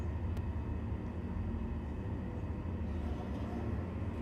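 Steady low rumble of a train rolling past in Star Citizen, a continuous dense drone with faint higher hiss, loud and unbroken throughout.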